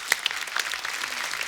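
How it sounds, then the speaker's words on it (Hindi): A studio audience at a Kapil Sharma comedy show breaks into steady applause, a brief dense wash of many hands clapping at a fairly loud, even level. "जोरदार तालियां हो जाए"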